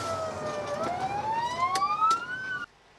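A fire engine siren wails nearby on a city street, its rising tone sweeping upward under traffic noise before cutting off abruptly.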